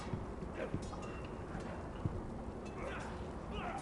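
A horse's hooves clip-clop sparsely in the Game of Thrones video game near Castle Black, soft, scattered steps beneath someone talking over a windy outdoor ambience.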